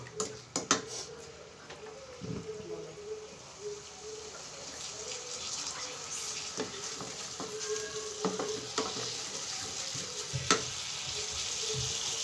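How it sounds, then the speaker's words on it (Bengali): Pumpkin sautéed in a pan for a prawn curry, a steady soft sizzle with scattered scraping stir strokes and clinks, close by and moderate in level, with no talking. "এখন এটা খুব সুন্দর করে কষিয়ে নেব"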